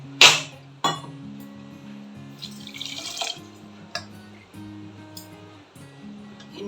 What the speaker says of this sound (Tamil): சர்க்கரை பாகு எடுக்க இதில் வந்து 1 கப்பு வாட்டர் ஆட் பண்ணுறேன்.